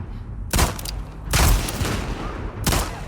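Gunfire from The Last of Us Part II: three separate loud bursts of shots with booming tails, roughly a second apart, over a low steady background.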